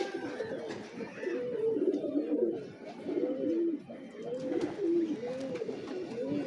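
French big breeder pigeons, an old high-flyer line, coo steadily in a close chorus of rolling, repeated calls, with faint background noise and no talk.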